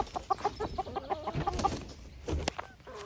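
Free-ranging chicks cluck in short, repeated bursts close by, with busy rustling and scratching beneath them and a sharp knock near the end.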